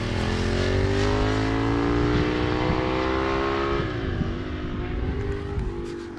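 A racing motorcycle at full throttle on a race circuit screams at high revs, passing close with a shifting pitch as it roars by, loud and unbroken.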